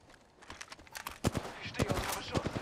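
Gunfire in the battle royale shooter Apex Legends, a loose string of sharp shots and short bursts crackling at varying distances over game noise, with a voice talking briefly.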